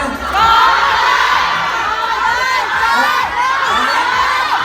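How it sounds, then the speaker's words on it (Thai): At a fan event in Thailand, a dense fan club crowd shouts and cheers loudly and without pause, with high excited yells and whoops rising and falling over the constant roar of many voices. "เมื่อกี้แฟนคลับตะโกนอะไรกันนะ"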